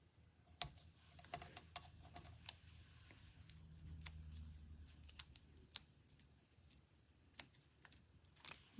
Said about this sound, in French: Ici, je vais couper, je vais prendre les bordures de mes dimensionneurs.